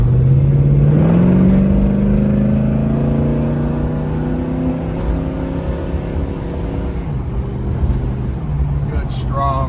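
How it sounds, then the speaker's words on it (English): A restored 1968 Chevelle SS 396 V8 pulls away on the road, its engine note rising steadily through the gears, loud and close, then settling into a steady cruising drone. "Good, strong running car."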